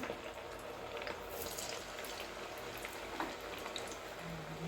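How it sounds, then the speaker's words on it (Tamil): Onion vadas deep-frying in hot oil, a steady bubbling hiss that holds evenly throughout at moderate level, close by, with no one speaking. "இப்போ நம்ம எண்ணெயில் போட்டு பொரிக்கலாம்"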